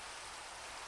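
Steady Minecraft rain in a survival world, a dense even hiss of falling drops filling the whole moment with no pauses, fairly loud and close with no other sounds.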